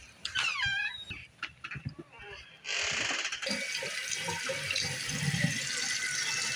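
Water gushes from a tap in a steady, loud stream after a few squeaky handle turns and clunks.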